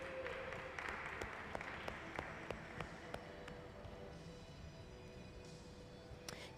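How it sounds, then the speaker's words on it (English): An audience at a glassblowing demonstration in a museum hot shop claps at a moderate distance, with scattered sharp claps in a soft, steady wash and some faint background noise. "Let's give them a round of applause for John Kiley and the Hot Shop team."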